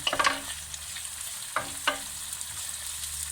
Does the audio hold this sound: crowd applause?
no